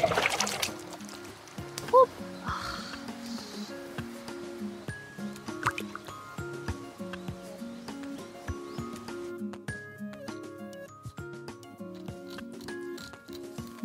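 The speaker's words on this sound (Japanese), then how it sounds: "内臓を取って洗う。" Gutted char from a campground fishing pond being rinsed under running water: soft splashing, dripping and wet squishing in short bursts, fairly close, over a quiet, steady tonal background.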